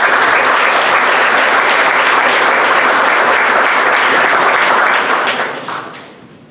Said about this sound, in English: Let's give a nice round of applause for our freshmen.